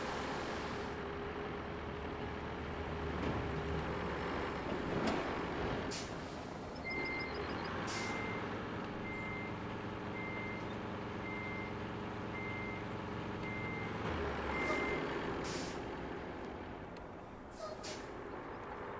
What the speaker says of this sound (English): Again, I'm using this dump truck because it holds 40 tons of sand.